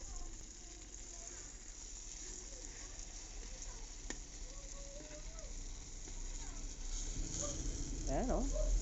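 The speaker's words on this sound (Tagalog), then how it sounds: "Meron pa tayong pinipritong tatlo." Eggplant omelettes sizzle as they fry in a pan, a steady quiet crackle that grows slightly louder toward the end, with faint clinks and a brief utensil squeak.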